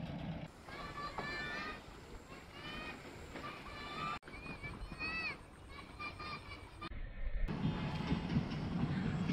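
An intercity train rumbles across the Teesta rail bridge, a steady rolling roar with rail clatter that swells toward the end, while people talk over it.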